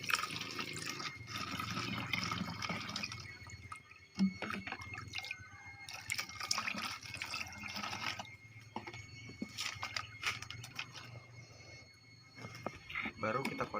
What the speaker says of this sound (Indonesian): Tambahkan airnya lagi kawan-kawan.